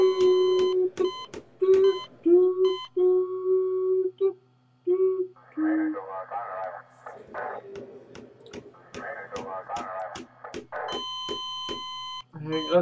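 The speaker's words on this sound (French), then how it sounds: "On va faire une musique de téléphone" Electronic phone ringtone built from sharp repeated beeps and short melodic tones in the prison-management game Prison Tycoon 2, playing loud and alone in bursts with brief pauses.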